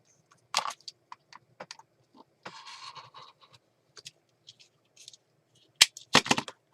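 Paper being cut while working inside an accordion fold journal: scattered close, crisp clicks and snips, a longer rasping slide of blade through paper near the middle, then a couple of louder sharp cuts at the end, no talking.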